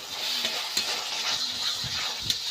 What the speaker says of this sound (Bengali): ভালোভাবে ভেজে নেব।